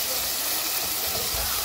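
Meat cooking in a large pot on a home stove gives a steady, close hiss and sizzle of steam that continues unbroken through the short moment.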